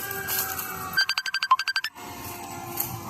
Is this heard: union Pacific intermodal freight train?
no